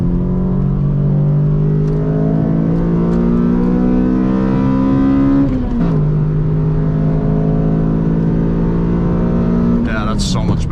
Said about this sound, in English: The difference between that old exhaust I took out and this one, the MagnaFlow, is crazy.